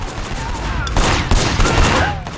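Rapid bursts of gunfire from a shooter video game, loud and continuous over about two seconds, with overlapping shots forming a dense fusillade.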